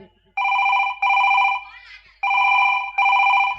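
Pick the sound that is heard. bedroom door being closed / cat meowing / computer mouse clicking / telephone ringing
telephone ringing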